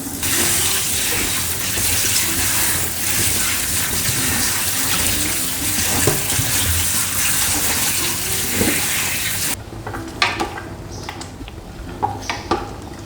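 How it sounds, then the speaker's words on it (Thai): Boiled pickled mustard greens washed and squeezed under running water, with a steady loud gush from a tap filling the sink that cuts off near the end, leaving quieter splashes and drips. "เราค่อยเอามาล้างนะคะ บีบเอาน้ำนะคะน้ำดองก็ออกไปนะคะ"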